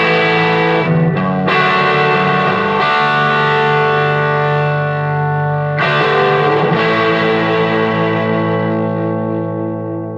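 An electric guitar plays through a vintage Magnatone M9 amplifier with distortion, giving thick, sustained chords with a wavering, echoing tone. A couple of sharp chord changes cut in, and the sound holds loud and full throughout.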